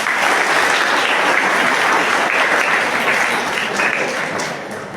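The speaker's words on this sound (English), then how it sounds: "Give me a big round of applause." A seated audience at a personality development and life skills training session gives a sustained round of applause, dense and loud, tapering off slightly toward the end.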